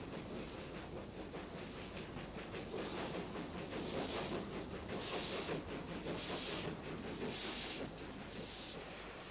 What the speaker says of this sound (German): Der berühmte, rasante Henschel-Wegmann-Zug dampft vom Anhalter Bahnhof nach Dresden.